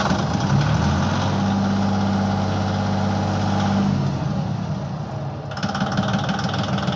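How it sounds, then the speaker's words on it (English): A Yanmar 226 tractor engine cranks and catches, then settles into a steady, close diesel idle with a low droning hum and a rough, even chug. "What a good running tractor."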